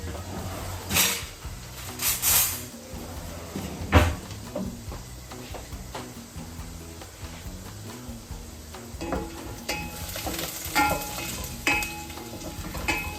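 Vegetarian pasta cooking in very hot oil in a pan, with a continuous sizzle broken by repeated stirring scrapes and metallic clinks of a utensil against the pan, no talk.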